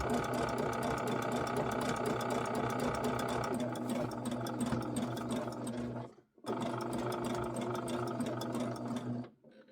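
Steady, continuous whirring of a sewing machine stitching appliqué, close and fairly loud, with one brief stop partway through before it resumes and then cuts out near the end.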